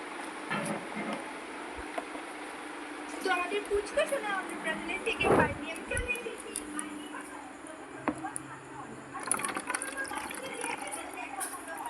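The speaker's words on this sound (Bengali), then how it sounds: "বোতলে কিছু জল ভরে দিই" Water pours into a small bottle indoors with a faint filling gurgle, while someone talks over it and household clicks and shuffles sound nearby.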